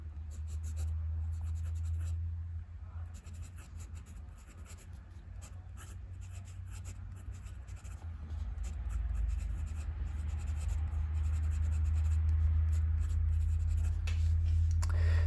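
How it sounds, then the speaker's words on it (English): A Narwhal Piston fountain pen with a steel nib scratches softly across Clairefontaine paper, a faint continuous writing sound over low steady background hum. "we're going to do the writing sample here with the Narwhal Piston fountain pen"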